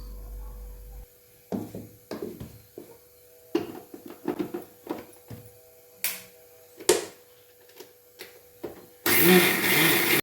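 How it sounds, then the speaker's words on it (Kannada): A mixer grinder grinds soaked rice into dosa batter: short, uneven bursts of whirring and knocking, then a loud, steady grinding run near the end, with no voices. "ನೆಕ್ಸ್ಟ್ ನೋಡಿ ಅಕ್ಕಿನ ರುಬ್ಕೊಂಡು ಸೇರಿಸ್ತಾ ಇದ್ದೀನಿ"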